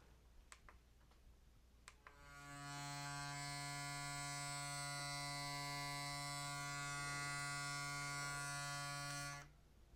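An Oral-B io Series 9 electric toothbrush switches on after a few faint clicks and runs with a steady, smooth high-pitched hum for about seven seconds before stopping, fairly quiet and close.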